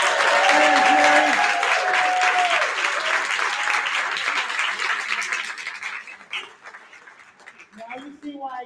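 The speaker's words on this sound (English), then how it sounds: "Y'all give him another round of applause." An audience applauds loudly for former NFL player Jerry Robinson and a motivational speaker. The clapping fades over several seconds, with cheers and whoops over it and a voice speaking near the end.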